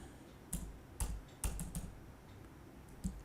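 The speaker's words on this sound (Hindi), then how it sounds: "मैंने एंटर प्रेस कर दिया" Computer keyboard being typed on while writing Python code, a few sharp separate keystrokes and presses of the Enter key, close and fairly quiet, with no talking.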